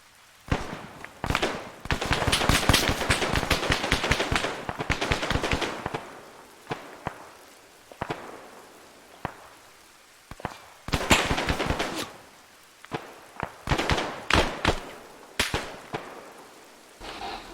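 Rapid bursts of machine gun fire in Rising Storm crack in clustered volleys, some loud and close, others thinner and more distant, with short gaps between sprays.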